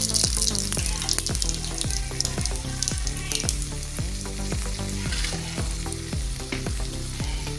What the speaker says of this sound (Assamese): ইয়াত তেল গৰম হৈ গ'ল, এতিয়া মাছটো অকণমান দি দিছোঁ